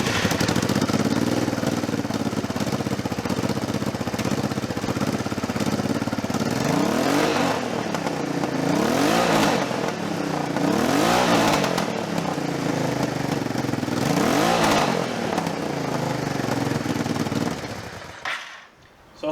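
A budget V-twin scrambler motorcycle engine, with its exhaust holes partly covered, revs loudly and repeatedly, rising and falling in strong swells over a steady idle rumble before cutting off abruptly near the end.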